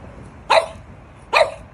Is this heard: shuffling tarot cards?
no